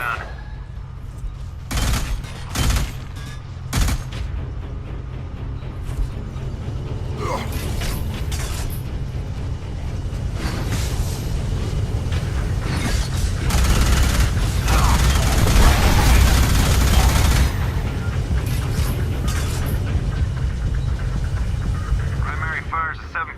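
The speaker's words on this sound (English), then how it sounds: "Minigun turret on the other side of the bridge" A minigun turret in the video game Alien Rage lets loose sustained rapid-fire bursts, a dense mechanical roar with sharp shot cracks that builds and stays loud, while a voice talks over the action.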